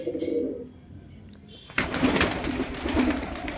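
Pigeons at night give a low, soft coo that is faint and partly buried under steady rustling and background noise.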